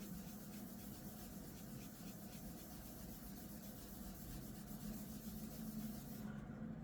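Continuous soft rubbing as a cotton pad wipes residue off a Pokemon trading card, a steady close swishing texture that stops abruptly near the end.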